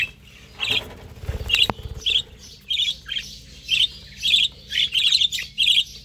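Pet birds in a cage chirp in a steady series of short, bright calls repeating about every half second, close and fairly loud, with light rustling and a few soft knocks beneath.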